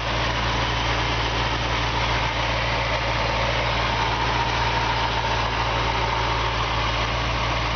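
A steady, even idle of a 1967 Mustang convertible engine rumbles on with a low, constant throb and faint vibration, close by and uninterrupted.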